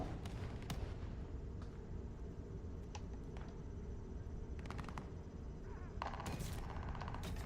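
Sniper rifle shots in a first-person video game, several sharp cracks spaced through a quiet stretch over a low, steady game-ambience background, fairly faint overall.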